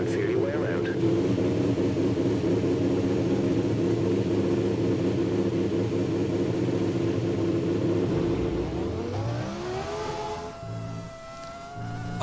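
Simulated BMW Williams 2003 Formula One V10 engine from an F1 2020 game mod, droning steadily at high pitch for most of the stretch, then dropping and climbing again near the end as revs change.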